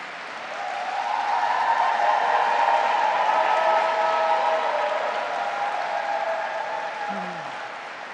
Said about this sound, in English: Let's give a special round of applause to Senator Zelna Riley and Catalina Cruz.